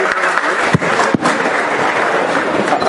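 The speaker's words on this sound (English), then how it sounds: "Please give a big round of applause for Shri Sanjeev ji, everyone." A crowd claps steadily, a dense wash of applause filling the space, with a few sharper claps standing out.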